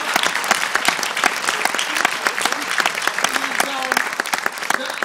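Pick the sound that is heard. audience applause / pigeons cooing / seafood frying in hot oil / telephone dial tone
audience applause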